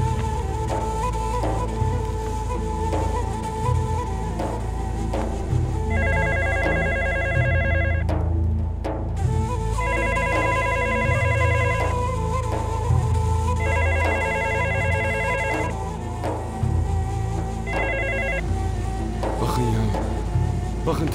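A telephone rings in repeated bursts over a steady musical background in a Turkish drama scene, with voices talking between the rings.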